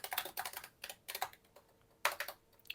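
Fingers type on a computer keyboard while coding in JavaScript, quick close clusters of crisp key clicks in short bursts with brief quiet gaps between them.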